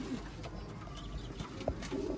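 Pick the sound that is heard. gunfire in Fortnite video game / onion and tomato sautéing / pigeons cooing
pigeons cooing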